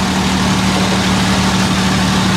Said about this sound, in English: Huge turbocharged diesel engine, just fantastic.